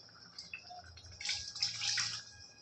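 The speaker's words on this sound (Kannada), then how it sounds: "ನೀರು ಹಾಕಿ." Water poured into a pot of avarekalu sambar, a short trickling splash that builds and gurgles for a couple of seconds, fairly quiet and close.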